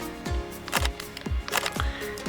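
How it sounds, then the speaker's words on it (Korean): Fujifilm X100V mechanical shutter firing four times at an even pace, each a crisp, close click with a short low thump, alone in a quiet room. "지금 이렇게 셔터 소리를 들어보시면"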